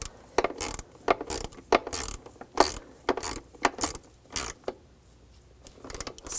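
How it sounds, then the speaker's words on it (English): A ratchet with a 6mm socket tightens a throttle body hose clamp on a 2000-2006 BMW X5 3.0L, giving close, crisp bursts of rapid clicking in short repeated strokes with brief pauses between them. "I'm going to tighten down the clamp. I'm going to use a 6mm socket this time."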